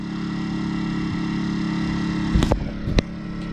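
A camping car's generator engine runs in a steady, loud, droning hum, with a couple of brief clunks and knocks near the end over the continuous engine tone.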